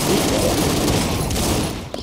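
Rapid gunfire and explosions from the Broforce video game, a dense continuous burst of shots lasting about two seconds, loud and without talk.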